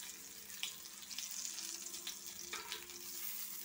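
Potatoes rubbed with salt and turmeric fry in hot oil with a steady, close hiss and crackle, a few sharper spatters and stirring scrapes rising out of the continuous sizzle.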